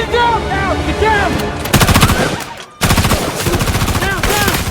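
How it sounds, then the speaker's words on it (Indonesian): Rapid bursts of gunfire crack through a film shootout scene, with loud machine-gun-like volleys that pause briefly and then resume, while voices shout in the background. "Tembak-tembakan pun terjadi."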